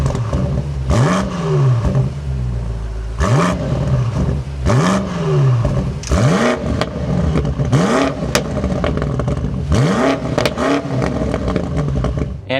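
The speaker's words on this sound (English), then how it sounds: "let's start this up and take a listen to how this competition sounds" A BMW M8 Competition Gran Coupe V8 starts and revs repeatedly, each loud blip rising and falling in a regular rhythm of about six throttle stabs, heard close and alone.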